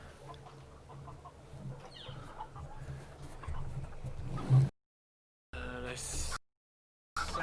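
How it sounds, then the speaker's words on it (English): Roosters on a farm making a commotion, agitated clucking and calls at a moderate distance over outdoor background noise, broken by brief gaps of silence. "Sounds like there's rooster commotion."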